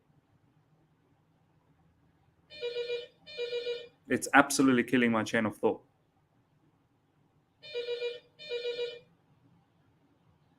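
A telephone rings in two bursts of paired electronic trills, with someone talking between them; the rings are clear and moderately loud against an otherwise quiet room.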